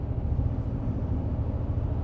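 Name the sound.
hybrid engine burble of Toyota Tundra Limited truck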